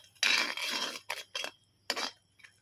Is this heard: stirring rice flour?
yes